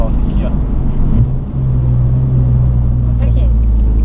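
A Nissan 370Z is driven and accelerates, its engine a deep steady rumble heard from inside the car, with a voice speaking over it.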